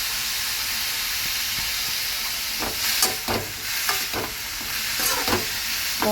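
Papaya curry with turmeric and salt sizzles and fries steadily in a pan, broken by several scraping strokes of a spoon stirring it, close and clear with no talking.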